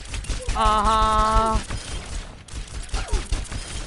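Rapid pistol shots from a healer character's sidearm in a video game crackle in quick bursts alongside a sustained tonal game sound, then give way to busier background noise.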